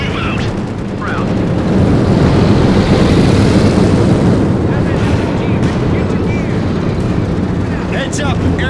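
Aircraft rumbling overhead in a Company of Heroes 2 Ardennes Assault battle at the Siegfried Line, a loud continuous roar mixed with dense gunfire and explosions, with voices calling out over the din.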